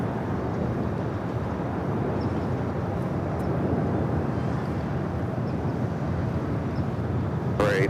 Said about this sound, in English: This is All Nippon Airways 125 taking off to Tokyo Haneda on the 787-9 Dreamliner.